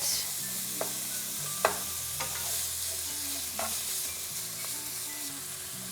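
Lean ground beef sizzles steadily in a pan while a utensil stirs and breaks it apart, with scattered scraping clicks over the continuous frying hiss.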